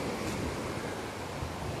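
A waterfall in a forested natural setting gives off a constant broadband roar of rushing water, soft and distant, with no voices.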